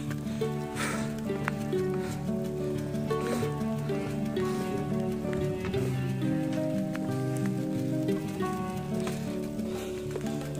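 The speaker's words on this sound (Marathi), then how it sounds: "आपल्या डोंगरावरच पाऊस पडतोय" Rain falling on a rocky mountain fort near Nashik, a steady patter of drops on stone and water tanks, even and close throughout, with a constant wash of hiss and no speech.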